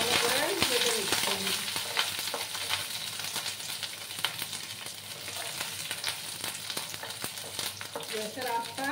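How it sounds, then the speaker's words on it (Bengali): Curry leaves fry in hot oil in a pan over medium gas flame, a steady close sizzle with crackling pops and occasional stirring taps against the pan throughout. "এবার আমি দেখো কয়েকটা কারি পাতা দিয়ে দিচ্ছি। ভালো করে ভেজে নিচ্ছি।"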